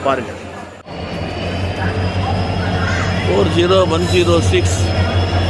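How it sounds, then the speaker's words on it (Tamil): An express train hauled by a WDP4 double-cab diesel locomotive pulls into a station platform, a low steady engine rumble and rolling drone building closer throughout, with someone talking over it. "இப்போ நம்ம ட்ரெயின் வந்துட்டுருக்கு. 6ஆவது பிளாட்ஃபார்மில் என்ட்ரு ஆகிட்டுருக்கு."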